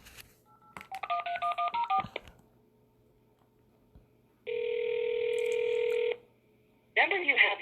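Touch-tone telephone dialing comes through as a quick run of short beeps, followed by a long steady tone and then a brief burst of further tones on a phone line.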